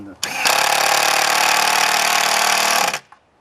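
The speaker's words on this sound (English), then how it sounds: "Let me get my rotor hammer and we'll rotor them in." A rotary hammer drill roars in one loud, continuous burst of about three seconds while installing septic tank risers, starting abruptly and stopping sharply, close up with no talk.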